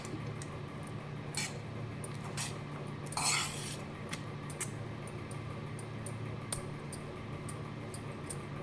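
Mango rice is stirred and mixed in a pot, giving soft, faint scraping with scattered light clinks of a spoon against metal, steady and quiet throughout.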